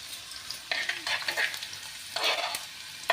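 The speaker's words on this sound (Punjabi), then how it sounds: "ਸਰੋਂ ਦੇ ਤੇਲ ਵਿੱਚ ਪਹਿਲਾਂ ਐਡ ਕੀਤਾ ਜੀਰਾ ਫਿਰ ਆਪਾਂ ਪਾ ਲਿਆ ਲਸਣ" Cumin and garlic sizzle in hot mustard oil for a dal tempering, a close crackling fry with bursts of louder hiss as the pan is stirred.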